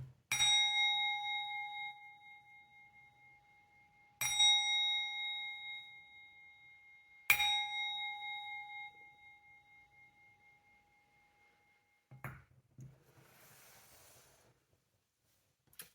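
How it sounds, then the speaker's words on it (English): A small metal bell is rung three times for space cleansing before a card reading, each bright strike ringing out and decaying slowly, followed by a faint rustle at the end. "I'm just gonna ring the bell for extra clarification."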